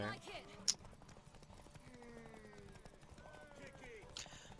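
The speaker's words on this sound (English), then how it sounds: "The horse you're on doesn't have enough stamina to gallop all the way to the tower." A horse gallops in The Witcher 3, its hoofbeats soft and steady through a quiet game soundscape, with a brief sharp sound early on.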